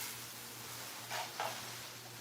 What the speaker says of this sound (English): So you see how those onions are sweating?